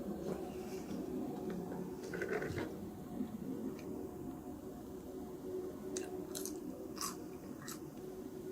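Close, crisp crunching from chewing Old Bay-seasoned fries, repeated bites over a steady low background hum, with a few sharper crackles near the end.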